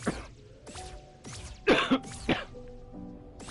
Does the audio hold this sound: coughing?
yes